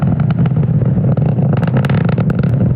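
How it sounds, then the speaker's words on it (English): SpaceX Falcon 9 rocket ascending from SLC-40 at Cape Canaveral on a Starlink mission: a loud, steady, dense engine roar with crackling peaks, continuous for the whole stretch and without talk. "Now we are throttling down the engines in preparation for max Q"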